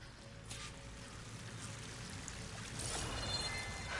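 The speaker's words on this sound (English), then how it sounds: "That waterfall must be coming from somewhere." A waterfall in Horizon Forbidden West roars as a steady, broadband rush of falling water, continuous and moderately close, swelling slightly louder toward the end with no voices.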